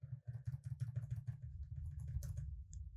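Someone presses hot keys on a Lenovo ThinkPad L430 laptop keyboard: a brisk run of close, quiet key clicks and taps.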